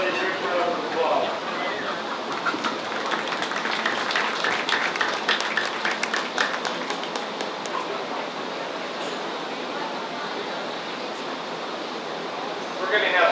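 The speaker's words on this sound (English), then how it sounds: "Give them really good round of applause" Steady, broad applause from an audience at a 4-H poultry show at the Washington County Fair in Washington, Iowa, sustained for the full stretch at moderate loudness with no talk over it, swelling again briefly near the end.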